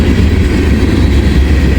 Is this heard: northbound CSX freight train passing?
yes